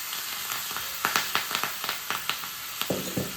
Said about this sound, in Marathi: थोडी मोहरी तडतडली आहे आपण याच्यामध्ये घालणार आहे हिंग आणि मिरचीचे तुकडे